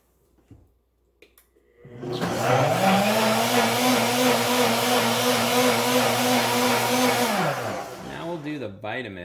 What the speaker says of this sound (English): I'm going to hit the high speed on the Nutribullet combo